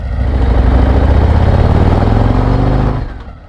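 A motorcycle engine runs steady and loud right next to the rider, a deep, throbbing drone with no change in pitch that dies away sharply near the end.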